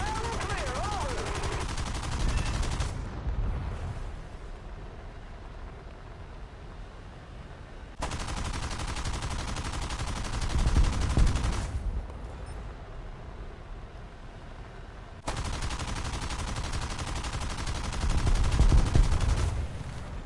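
Gunfire in a video game, three long sustained stretches of dense rapid shooting separated by quieter rumbling gaps, loud and close, with a voice heard briefly at the start.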